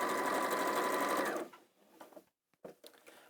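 A sewing machine runs steadily at close range for about a second and a half, then stops, leaving a few faint clicks and handling noises.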